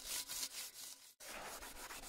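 A fire-blackened pan is scrubbed with fine mud from the ground, giving steady, close rasping strokes that stop for a brief moment partway through and then start again.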